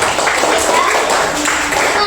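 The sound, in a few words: applause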